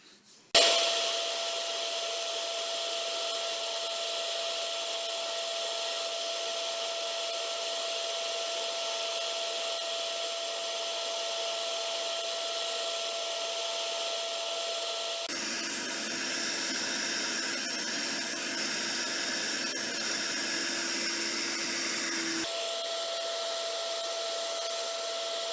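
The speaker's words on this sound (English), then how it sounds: "The blank sanded up very nicely." A wooden blank is sanded, a steady hissing whir running unbroken for about half a minute, its tone shifting partway through before returning to the first pitch.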